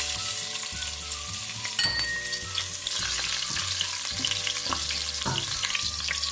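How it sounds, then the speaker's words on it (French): Shallots fry in hot oil for vermicelli fried rice, producing a dense continuous sizzle heard up close and loud throughout, with one sharp clink near the start and no speech. "Quand l'huile est chaude, vous rajoutez vos échalotes pour les frire"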